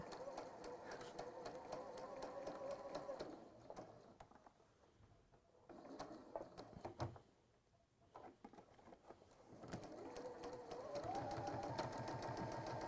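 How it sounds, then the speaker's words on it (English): An electric sewing machine stitching around the nose strip of a fabric face mask, running in rapid mechanical bursts that stop and restart, with quiet pauses between runs of stitching. "But just sew round it, not over it."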